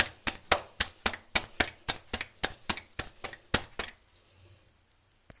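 A cooked paratha is cut up by hand, producing a quick, regular series of about fifteen sharp taps close by, which then stop and leave a quiet hum.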